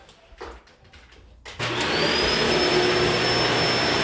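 A Shark Rotator Powered Lift-Away upright vacuum with a self-cleaning brushroll starts up loud and steady on carpet after a quieter stretch, holding a continuous motor roar with a faint high whine.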